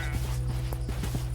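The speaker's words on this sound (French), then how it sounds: "Il y a des chevaux." Horses in a Minecraft horror modpack clip-clop in a quick, regular rhythm of hoof taps over a steady low hum, close and clear.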